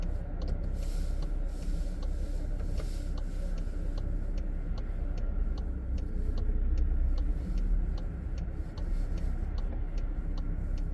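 A car pulls away during a driving test on a London road, a steady low engine rumble heard from inside the cabin with faint regular ticking throughout.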